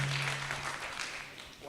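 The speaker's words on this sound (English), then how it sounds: "Let's give that a round of applause." An audience at a small business workshop applauds, a steady wash of clapping at moderate level that fades slightly toward the end, with no voices over it.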